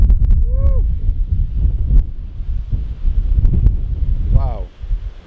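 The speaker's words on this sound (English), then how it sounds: "Wow, it get windy up here." Wind gusting hard across an exposed high spot near a road and railway line, a steady broad roar buffeting the microphone throughout, with brief voice-like sounds rising over it.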